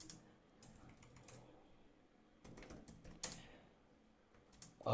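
A ChatGPT prompt being typed on a computer keyboard, quiet irregular clusters of key clicks with brief pauses, close and faint in a still room.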